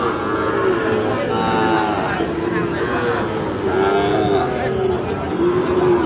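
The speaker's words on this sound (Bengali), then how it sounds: "সাইওয়াল ষাঁড় বাচ্চা।" A Sahiwal bull calf lows and moos repeatedly amid a busy crowd of voices at a cattle market, the calls rising above steady chatter throughout.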